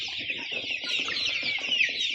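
A flock of two-month-old Andijan black chicks chirps and cheeps continuously up close, their busy high calls overlapping with soft clucking underneath.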